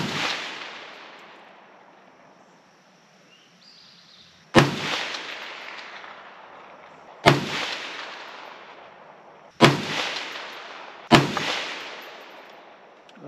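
Four loud, close rifle shots from an AR 47 firing Russian steel-case ammunition, each a sharp crack with a long decaying echo across an outdoor range, spaced a few seconds apart.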